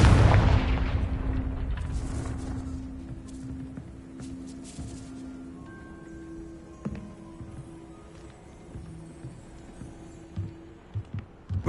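A Confringo blasting spell in Hogwarts Legacy goes off with a loud initial burst, followed by a fading rumble, scattered small pops and quiet game ambience with a sustained tone.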